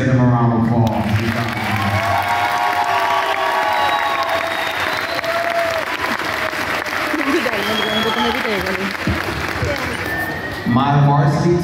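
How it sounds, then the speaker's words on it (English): Parents at a karate belt ceremony applaud students promoted in rank, with steady crowd clapping and some cheering under voices, briefly joined by talk at the start and end. "let's give them a round of applause"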